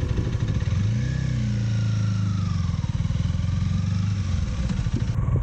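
A Honda CL250 motorcycle engine runs steadily while being ridden, a loud, close, continuous drone with a brief rise in pitch early on, then steady cruising.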